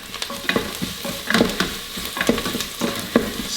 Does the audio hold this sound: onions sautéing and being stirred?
yes